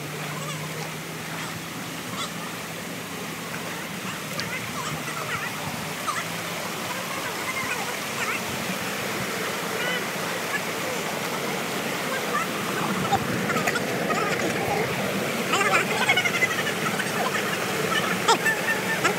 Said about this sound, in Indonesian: air terjun Tengkupia.